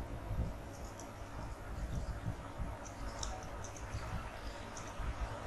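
Light clicks and taps come from a computer keyboard and mouse while entering a salary sheet in Excel 2016. They are soft and irregular, in small bursts over quiet room noise.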